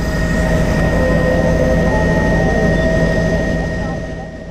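A helicopter flies over the Grand Canyon, its engine a steady, loud, droning roar with a low hum underneath that fades slightly at the end.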